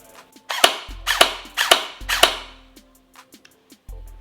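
A Krytac Kriss Vector AEG airsoft gun fires four sharp single shots in quick, even succession, each a crisp mechanical crack with a brief motor whir. A fifth whir follows after a pause, close and loud, with no talking.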